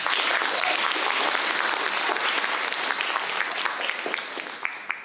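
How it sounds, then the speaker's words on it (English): A school symposium audience claps for an opening speaker, steady and dense with no voices over it, holding loud and close for five seconds before thinning slightly near the end. "Please, another round of applause for Mr. Talent."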